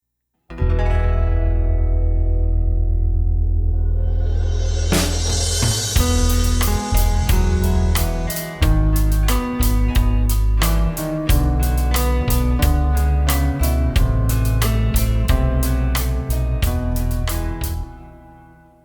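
A guitar plays a solo cover, starting with a sustained ringing chord before moving into a steady melodic line of loud, closely picked notes, with no voices.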